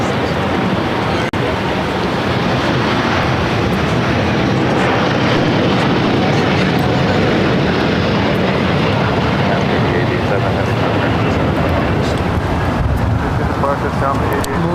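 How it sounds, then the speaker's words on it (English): A LATAM Boeing Dreamliner jet bound for São Paulo roars steadily and loudly throughout, a broad continuous engine rush with wind buffeting the microphone and a voice talking over it. "I got the Latam Dreamliner heading to Sao Paulo"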